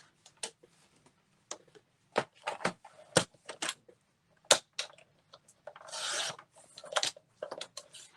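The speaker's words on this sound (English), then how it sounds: "I think I need to trim it a little bit." Paper for a Christmas mini album is trimmed in a quiet room, giving a series of short, sharp snips and rasping cuts spaced irregularly, with one longer scraping stroke near the end.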